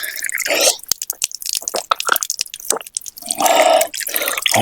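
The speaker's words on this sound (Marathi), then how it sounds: "पाणी काढतायत, पाणी प्यायचा प्लॅन आहे आपला." Water drawn up from an old well at Korlai fort near Alibaug, with repeated splashing, dripping and sloshing bursts close by, and short quiet gaps between pours.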